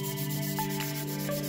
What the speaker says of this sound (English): Just lay it down on there and just go side to side.